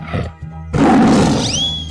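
A tiger gives one loud, close roar in a 3D animal sliding game, following a short stretch of background game music, with a high whistling tone rising near the end.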